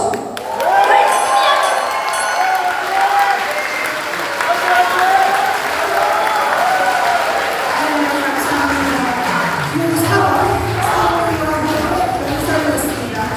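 Loud, sustained applause and crowd noise from party members at a joint campaign rally in Jeju for party leader and supreme council candidates. The clapping continues unbroken throughout, with a voice heard over it.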